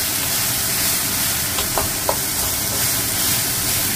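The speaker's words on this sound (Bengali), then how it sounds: "জিরে আর শুকনো লঙ্কা ফোড়নটা একটু বেশি হয়ে গেছে" Cumin seeds and dried chilies sizzle in hot oil as a tempering, a loud, steady hiss of frying with a couple of faint pops and stirring clicks, close up and uninterrupted.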